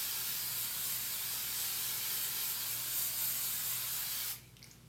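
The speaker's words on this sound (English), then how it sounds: "we have to hairspray it, because princesses have to keep their hair the way it is." Hairspray sprays onto a child's styled princess hairdo as one steady, close hiss of aerosol lasting several seconds, then stopping abruptly.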